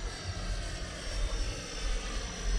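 A Freewing F-14 Tomcat 80mm RC jet runs at full throttle, a dense, steady roaring whoosh with strong low rumble that holds throughout without pause or voices.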